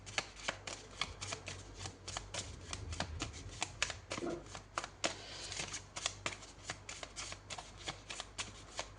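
Tarot cards are shuffled and handled up close in a quiet room, producing a rapid, continuous run of crisp riffling snaps and soft slaps.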